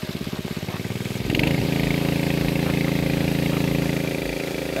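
A garden water pump's small petrol motor runs close by, chugging at a low rhythmic idle and then surging as it is throttled up into a steady, louder drone that holds to the end.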